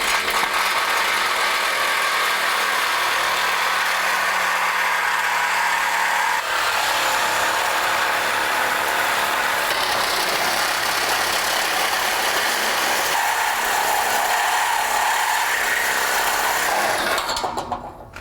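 A lathe cutting and drilling runs continuously, a loud grinding, whirring drone with rattling as the cutting shifts, no voices, ending abruptly.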